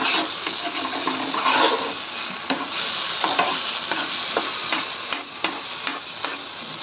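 Masala gravy for a fish curry frying in a pan, a dense, continuous sizzle with intermittent clicks and scrapes of a spoon stirring, close and fairly loud throughout, with no talking.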